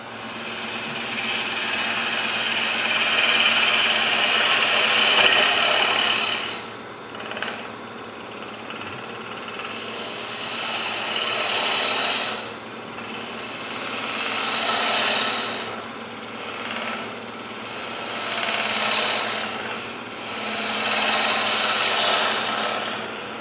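A shear scraper works a wooden sphere spinning on a lathe, giving a loud, continuous rasping scrape that swells and dips in repeated passes over the turning wood.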